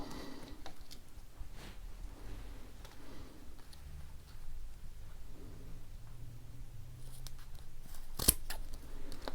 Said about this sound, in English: we'll give it about 1/2 to 3/4 of an inch and cut those off